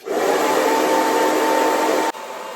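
A hair dryer aimed at the top of the hair runs with a steady, loud, close whirring roar, then is switched off abruptly after about two seconds, leaving quieter room noise.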